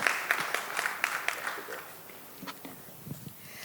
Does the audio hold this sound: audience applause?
yes